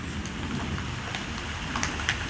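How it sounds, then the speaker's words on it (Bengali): Light rain pattering outdoors in a Bengali village courtyard, a faint, steady soft hiss with scattered small drop ticks throughout, no voices. "টিপ টিপ টিপ করে বৃষ্টি পড়ছে।"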